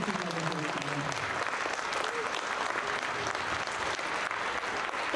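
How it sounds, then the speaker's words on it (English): Audience applause for mentor teachers at a teacher education coin ceremony: dense, sustained clapping from a crowd filling the whole stretch, with a voice briefly heard over the start. "can we give a round of applause to all of our mentor teachers over here today?"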